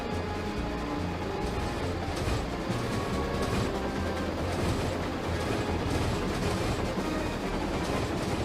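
A train rumbles past with a continuous low mechanical roar and faint rhythmic clatter of wheels on track, steady for several seconds.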